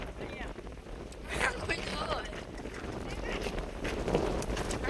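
A horse moves near a crowd, its hooves clip-clopping in an uneven rhythm while it gives occasional neighs. People talk and shout nearby.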